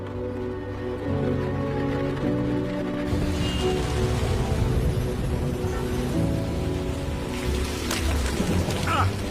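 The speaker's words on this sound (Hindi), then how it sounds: "क्या इस घनी शहर में हर रोज बारिश होती है?" Steady heavy rain pours close by in a dense city of tall buildings, a hiss that swells louder partway through with a low rumble underneath.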